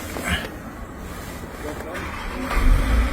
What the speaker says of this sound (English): then turn on the ignition